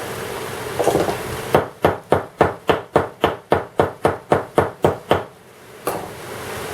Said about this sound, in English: And that hand-hammered rivet looks really nice.